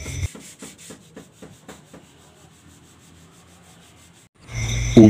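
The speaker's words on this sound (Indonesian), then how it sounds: "Selanjutnya kita proses lagi ke tahap pengamplasan nomor 80 seperti pada" Body filler on a Toyota Xenia door being sanded with 80-grit paper: a run of rhythmic rasping strokes, close and fairly loud, that slow and fade, then a louder burst at the end.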